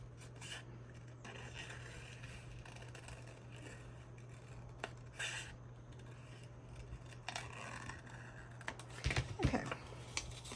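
Scissors cutting out small pieces for a mini notebook made from a mini jean jacket: quiet, sparse snips and rustles over a steady low hum, with a few sharper clustered cuts near the end.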